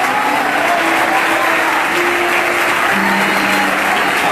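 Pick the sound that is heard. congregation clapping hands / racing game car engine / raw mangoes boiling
congregation clapping hands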